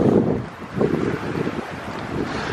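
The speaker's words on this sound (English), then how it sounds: "Ooh, that wind, brutal." Strong wind blusters at an Ohio interurban railroad bridge, buffeting the microphone in uneven gusts with a rough, rushing roar throughout.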